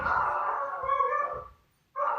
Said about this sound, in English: my dog's having a spaz attack downstairs